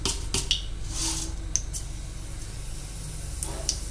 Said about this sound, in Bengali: একটু মৌরি ফোড়ন দিয়ে দিচ্ছি